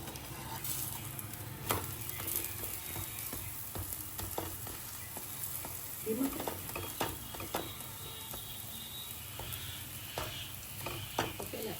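Steady sizzling of thepla flatbread frying in oil, with scattered clicks and taps of utensils throughout, no talking.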